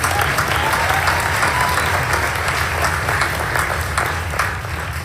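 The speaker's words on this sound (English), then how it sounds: "Yes, please a round of applause for the panel." A crowd at a gala in New York applauds a panel continuously, dense steady clapping filling the room for several seconds without letting up.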